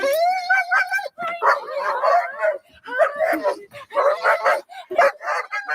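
A puppy yips, whimpers and makes little howling cries in quick, excited bursts close by, with people talking over and between the sounds.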